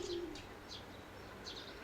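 Faint bird calls, with a low coo at the start and a few soft short chirps repeating, distant against quiet wind hiss. Matches a pigeon flying against the wind.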